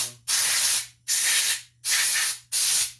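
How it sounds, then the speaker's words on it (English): Compressed air sprays in four strong, even hissing blasts, each close to a second long, blowing down the body of a Kawasaki FA210 engine carburetor, with brief gaps between bursts. "We're going to blow it down one more time."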